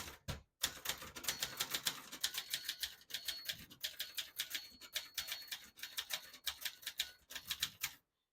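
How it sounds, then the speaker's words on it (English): A 1978 Brother Webster XL-500 portable manual typewriter clacks away in steady, uneven bursts of keystrokes, with sharp mechanical strikes and no voices. The typing stops abruptly at the end. "Beautiful typing machine."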